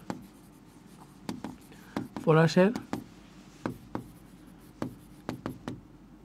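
Pen scratching and tapping on paper while taking notes in a chemistry lecture, sharp intermittent strokes close by, with a person talking briefly over it midway.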